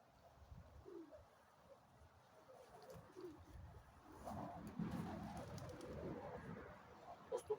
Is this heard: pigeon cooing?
yes